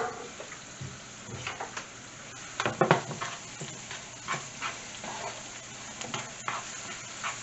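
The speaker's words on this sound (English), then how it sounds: "Then I drop my garlic in." Garlic dropped into about a teaspoon of hot pure sesame oil in a pan, giving a soft, uneven crackle and sizzle with a few brief louder bursts, fairly quiet and close, with no talking.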